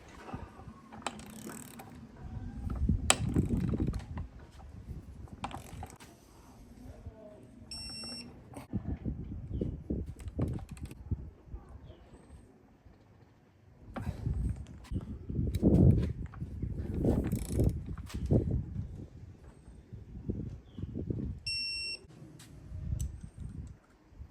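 Ratcheting while a bolt is tightened on a BMW E30 Getrag 260/6 gearbox: bursts of close mechanical clicking and grinding come in waves, with short electronic beeps a few times between them.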